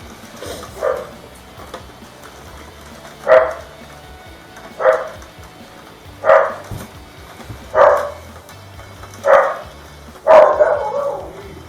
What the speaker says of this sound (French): mon chien aboie